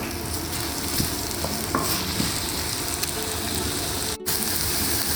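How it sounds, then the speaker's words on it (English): Onions frying in oil for a slow-cooked lamb and potato curry hiss in a loud, continuous sizzle with occasional stirring clatter, briefly cut by a short gap near the end. "you put in the rest of the onions and fry them till they go golden brown"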